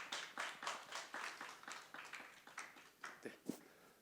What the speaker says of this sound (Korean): 여러분 한 번만 더 큰 박수로 부탁드리겠습니다.